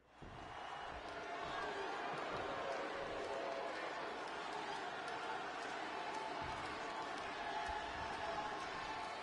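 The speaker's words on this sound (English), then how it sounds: "just listen to this crowd here in Chicago" A video game arena crowd in Chicago at a WWE 2K26 wrestling match with CM Punk and Eddie Guerrero roars steadily, a dense continuous wall of cheering that swells in and holds loud throughout, with commentary voices mixed in.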